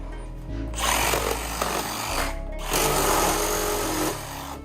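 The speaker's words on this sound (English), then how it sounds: "I got some linemen's and my magic sawzall." A Sawzall reciprocating saw cuts during demolition in a hoarder house, giving two loud, harsh buzzing bursts of about two seconds each with a short pause between them, close and alone.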